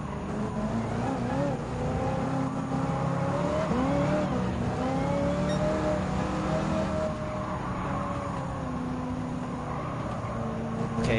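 A race car engine in Gran Turismo 7 revs and climbs steadily along the Rural Straight toward the corkscrew, a continuous rising and shifting whine with brief tire noise, fairly quiet and unbroken.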